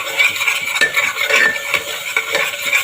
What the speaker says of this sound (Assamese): এতিয়া এইখিনি অলপ ফ্ৰাই কৰি লওঁ